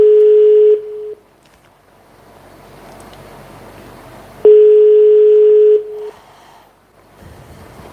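A telephone ringback tone rings out in two long, steady tonal bursts a few seconds apart, the outgoing call left unanswered, with a faint murmur of background noise filling the gap between the rings.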